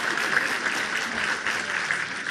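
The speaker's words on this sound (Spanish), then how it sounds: "Un aplauso para todos ustedes." Audience applause at an indoor conference lecture: a steady, dense wash of clapping from a crowd that holds at an even level for the whole stretch, with no voices over it.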